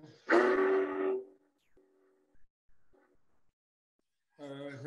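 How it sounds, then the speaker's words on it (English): A Big Boy steam locomotive whistle on a model railroad sounds one loud, steady blast of about a second, then fades into near-silence broken by faint clicks; a voice-like tone enters at the very end. "the big boy whistle"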